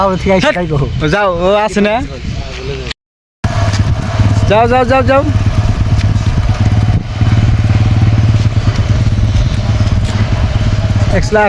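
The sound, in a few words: motorcycle engine running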